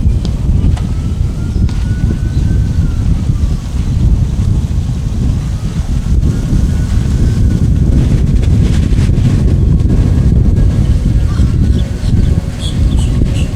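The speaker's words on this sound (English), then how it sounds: "They're getting a good wind too." Strong wind buffets the microphone at a bayside radio-controlled sailboat race, producing continuous loud rumbling gusts with no break.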